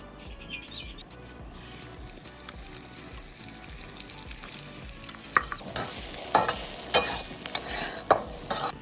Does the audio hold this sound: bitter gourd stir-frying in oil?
yes